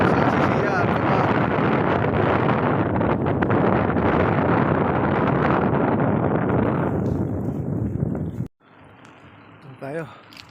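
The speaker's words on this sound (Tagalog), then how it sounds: "Lakas ng hangin." Strong wind at sea roars across the microphone in a loud, continuous buffeting rush for about eight seconds, then drops off abruptly to quieter background with a brief voice near the end.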